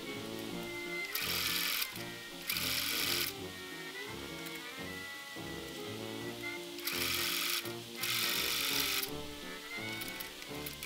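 Sewing machine stitching a vintage Three Wise Owls fabric panel, with loud, steady mechanical whirring in repeated runs of a few seconds each, separated by short pauses at tight corners.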